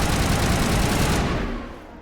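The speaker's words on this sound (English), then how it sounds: "You know, I never use a sniper rifle," Sustained loud gunfire in a war video game, a dense burst of rapid shots that rolls on for under two seconds before tailing off.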